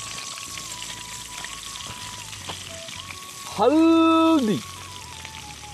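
Oil sizzles and spits steadily in a hot wok at an outdoor survival cook of tree-boring beetle larvae, a close, continuous frying hiss with a brief tonal whine and a word spoken over it.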